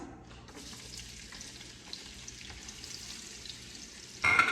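Onions frying in oil in a pot for seafood okra soup, a steady close sizzle throughout with a louder burst of crackling near the end; no talking.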